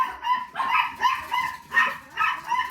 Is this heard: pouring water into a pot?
no